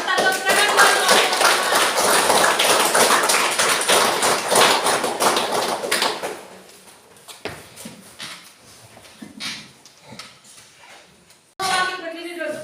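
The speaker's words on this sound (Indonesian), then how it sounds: "tepuk tangan buat kelompok 4" A classroom group of students and teachers claps for presenting group 4, a dense, loud, continuous round of applause for about six seconds, fading into scattered taps and voices, then a short burst of claps again.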